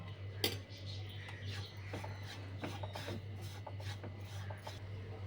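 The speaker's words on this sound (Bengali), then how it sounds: "গোটা জিরেটা ওর সাথে আমি ভেজে নিচ্ছি" Semolina and whole cumin seeds dry-roasting in a pan while being stirred, making soft, repeated scraping and rasping strokes at close range over a steady low hum, with no talk.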